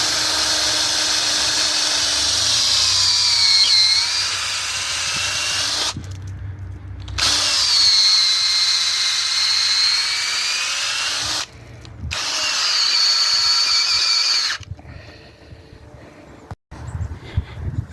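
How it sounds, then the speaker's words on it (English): A power drill whines through maple tree wood in several long bursts separated by short pauses, its pitch rising and falling as it bores a sap tap hole. "drilling the hole, you want to have a slightly up angle."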